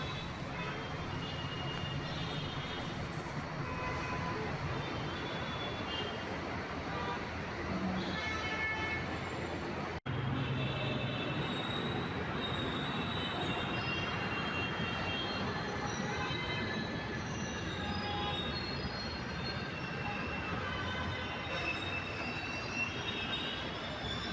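A metro train on Bengaluru's Green Line rumbles steadily and loudly throughout, with high metallic wheel squeals rising and falling and a brief jolt midway.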